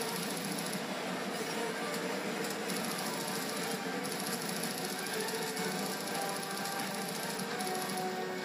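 Train rumbling past in the Call of Duty Black Ops game, a steady dense mechanical clatter and roar that holds loud and continuous throughout, with no voice over it.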